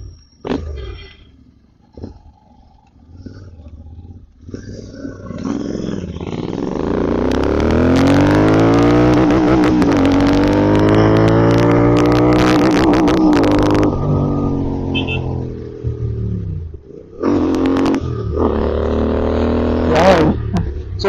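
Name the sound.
modified GT650 motorcycle riding and accelerating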